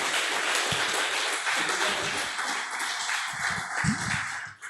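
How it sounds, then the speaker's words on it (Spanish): Church congregation applauding during a Spanish-language sermon, a dense wash of clapping from a crowd with a few low thumps, steady and moderately loud throughout. "Denle un aplauso al Señor."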